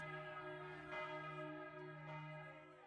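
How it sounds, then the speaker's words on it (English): Church bells ring out in a town, rich sustained metallic tones layered together and fairly faint, with a couple of fresh strikes swelling over the lingering hum and no voices. "church bells rang out, bringing more townspeople into the streets to join the standoff"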